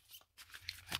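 Tarot cards being shuffled by hand, a quick, faint run of soft riffling flicks and papery snaps in a quiet room.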